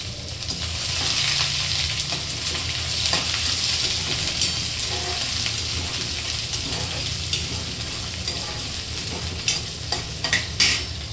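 Sliced onion fries in hot oil with cumin, mustard seeds, garlic and curry leaves for a potato bhaji, a steady close sizzle broken by repeated scraping stirs and a few sharp clinks near the end.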